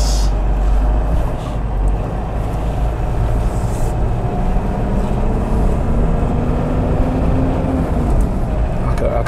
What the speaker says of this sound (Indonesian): agak meraung ya dari suara mesin. Bocor banget suara mesin.